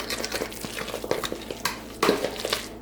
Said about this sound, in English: So I'm just gonna keep mixing this up, and then I'm gonna make patties.